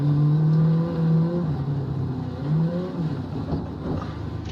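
Alpine A110 rear-wheel-drive rally car engine on a snowy stage in Assetto Corsa Rally, a steady loud drone that rises and falls as the throttle is fed in and eased off, close and continuous without talk.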